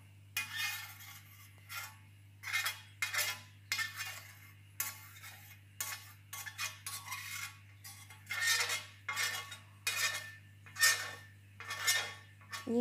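Homemade kajal soot scraped off a plate, repeated short metallic scrapes in irregular bursts, close and distinct against a quiet low hum.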